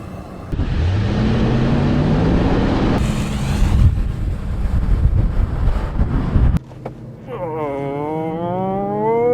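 A 2022 Lexus GX 460 with KDSS and a clutch fan accelerates hard from 0 to 60 on the street, its engine roaring loud and close with wind rush, then easing to a steadier hum near the end.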